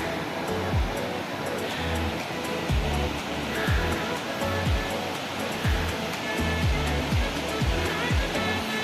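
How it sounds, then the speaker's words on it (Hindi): Water flowing over stones high on a rainy mountain path, a steady broad rushing wash heard from a short distance, with soft repeated low thumps underneath and no voices. "ऊपर से पानी बह रहा है और पत्थरों के ऊपर से बहने की आवाज़ यहाँ तक आ रही है"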